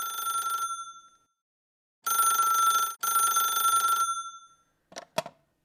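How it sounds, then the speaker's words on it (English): An old landline telephone bell rings in a home, two loud bursts separated by a gap and then a brief break, followed by a couple of short clicks as the receiver is picked up. "Whitworth was at home when he received a phone call."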